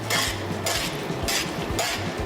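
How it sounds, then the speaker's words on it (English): Pasta being stirred into tomato sauce in a pan, with soft scraping and light clinks of a utensil against the pan in a few quick strokes, quiet and close. "And then we're gonna stir it."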